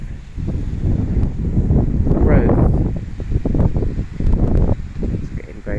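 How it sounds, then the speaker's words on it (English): Strong wind blowing outdoors near a neem tree, a loud continuous rushing with gusty swells and leaf rustle, while a person speaks over it. "it's getting very windy"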